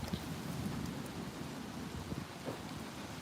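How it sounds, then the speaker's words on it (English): Rain picks up during a summertime pop-up storm, a steady soft hiss of falling drops with low rumbling underneath, fairly quiet and with no voices. "Rain is picking up a little bit."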